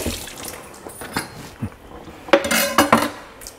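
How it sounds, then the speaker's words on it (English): Cutting board rinsed under a running kitchen tap, with water splashing and dripping, hollow knocks and clatter of the board against the sink, close and moderately loud. "Just rinsing off the cutting board right at the moment."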